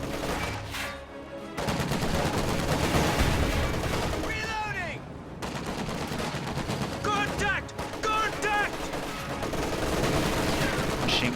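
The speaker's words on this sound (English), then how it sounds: "Machine guns engaging." Machine guns fire in a World War II-style strategy video game, a dense, continuous clatter of rapid bursts with booming impacts, joined by whistling shell sounds and talk running over the top.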